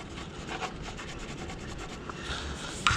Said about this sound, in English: there's a blade right here. It's just plastic, and you can scrape it off